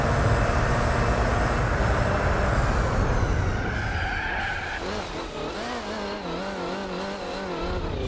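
Car in Gran Turismo 4 touching a curb and spinning out: loud tyre squeal and skidding for several seconds, then a wavering engine note as the car slides around, continuous and close.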